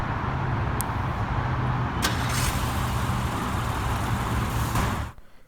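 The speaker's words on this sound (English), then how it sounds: "The remote starter on the car is a nice touch as well." A car running after a remote start, its steady close engine idle droning for several seconds with a couple of short sharp clicks, then cutting off abruptly at the end.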